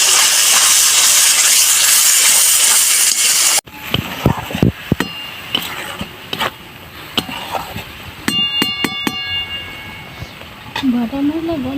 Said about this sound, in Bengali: এটা আমি ভালো করে ভেজে নিই।